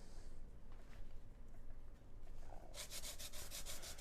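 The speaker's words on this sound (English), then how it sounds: "The zest of a lime." Lime zest being grated for a cherry chipotle barbecue sauce, heard as a soft, close rasping scrape that turns into a brisk series of rhythmic grating strokes toward the end, with no talking.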